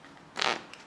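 Playing cards riffle-shuffled in the hands, one card released at a time from each pack, giving a single short, close crackling burst under a second.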